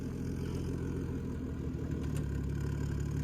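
Turbocharged Lexus IS300 fitted with a CT20 turbo, engine running steadily with a constant low drone and faint rising turbo whine, loud and close with no talking.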